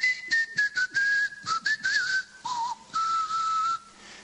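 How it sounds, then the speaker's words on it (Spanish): Whistled speech of island inhabitants who communicate by whistling instead of talking: a series of clear, melodic whistled phrases with shifting pitches and short gaps, bright and close, with no voices. "se escuchaban los silbidos de los habitantes"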